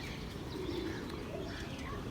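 Pigeons kept by a fancier cooing softly in the background, a few low murmuring coos, faint and distant beneath ambient noise.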